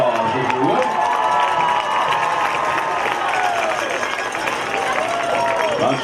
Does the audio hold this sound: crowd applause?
yes